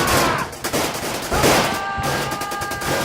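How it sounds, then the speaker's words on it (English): A radio drama battle fills with dense gunfire, rapid overlapping shots and bursts crackling loudly in a continuous barrage with heavy low thuds beneath. "Gun upon gun spewed its guts out, and the ground physically shook underfoot"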